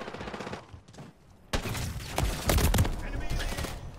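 Bursts of rapid gunfire from the Sidewinder weapon in Modern Warfare 3 crackle through the game mix, a quieter volley followed by a louder, denser string of shots, with a voice talking over it.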